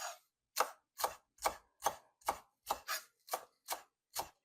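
Knife chopping fresh curled parsley just picked from the garden, about ten crisp, evenly spaced cuts, each a short crunchy snap on the board, close and clear with no talking.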